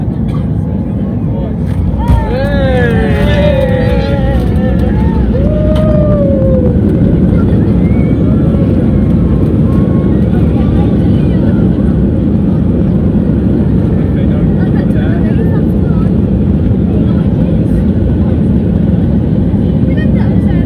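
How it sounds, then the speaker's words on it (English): Passenger airplane landing at Tenerife South Airport, a loud, steady roar of engine and cabin noise lasting throughout, with people talking over it briefly at the start. "And here is our landing now at Tenerife South."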